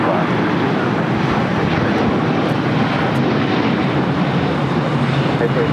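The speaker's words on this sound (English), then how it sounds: "This is All Nippon Airways Flight 5 taking off to Tokyo Narita on a 787-9 Dreamliner." An All Nippon Airways Boeing 787-9 Dreamliner takes off from LAX for Tokyo Narita, a loud, steady jet-engine roar sustained throughout with some voices talking underneath.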